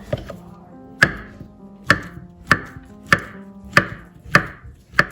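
A knife slices a banana on a cutting board for a vegan chocolate raspberry chia pudding, giving seven crisp, evenly spaced chops close up with quiet pauses between them.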